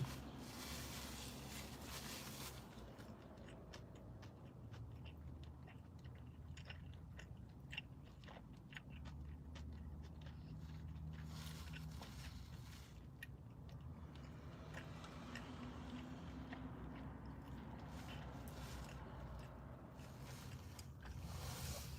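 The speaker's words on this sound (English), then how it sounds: "What I'm doing, eating in the car before I go in the shop." Someone chewing and biting food inside a parked car, with soft crunchy bites and mouth sounds repeating close up over a steady low interior hum, no talking.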